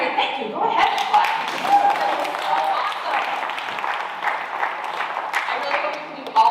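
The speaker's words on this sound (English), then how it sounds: "thank you, go ahead and clap." Church congregation clapping during a service, a dense, steady patter of many hands lasting throughout, fairly close and even in loudness, with some voices mixed in.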